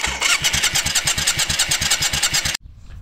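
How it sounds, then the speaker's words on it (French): A Yamaha Virago 535 motorcycle starter cranks the engine in a fast rhythmic churn, loud and close, then cuts off abruptly into a low rumble. "le moteur tourne"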